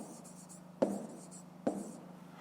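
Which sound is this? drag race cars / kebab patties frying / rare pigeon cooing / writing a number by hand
writing a number by hand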